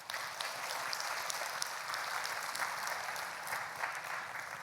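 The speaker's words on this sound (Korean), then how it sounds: "박수 한번 해요." A church congregation claps together during a sermon, making a steady, even round of applause. It sounds moderately distant and holds without a break for several seconds.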